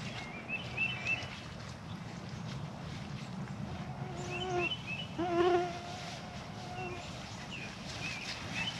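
Mosquitoes and other insects buzz steadily around someone planting clearance hostas and phlox in a suburban garden, with thin whining tones rising and falling over soft outdoor background and occasional bird chirps.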